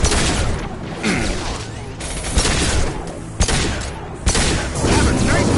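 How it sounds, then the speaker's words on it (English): Heavy gunfire rattles through a Mass Effect 2 battle, with dense overlapping bursts, several sharper impacts cracking above the din, and continuous loud combat noise throughout. "Taking heavy fire!"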